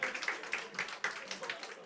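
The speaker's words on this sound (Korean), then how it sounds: "박수 한번 쳐주세요." A church congregation claps together in a quick, even rhythm of sharp hand claps at moderate volume, with some voices and talk mixed underneath.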